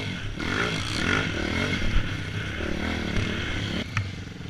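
A dirt bike engine roars and revs continuously as the rider pulls the front wheel up over whoops on a Pine Barrens trail, loud and close, with rattling and scraping of the bike over the bumps.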